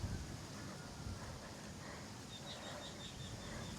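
Strong wind buffets a car campsite in the hills, a dense rushing roar against the microphone, steady throughout, with faint high chirps in the background.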